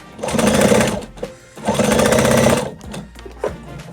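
A sewing machine runs in two sustained bursts of rapid, even stitching, loud and close, joining fabric pieces of a donut-shaped dog toy, with a short pause between and a faint click near the end.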